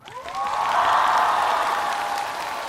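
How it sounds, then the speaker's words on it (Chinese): A studio audience applauds the singers on a televised singing competition, a dense, sustained clapping that swells quickly and holds steady throughout, with no voices over it. "再次把掌声送给我们在场的每一位歌手"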